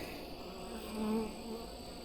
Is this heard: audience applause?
no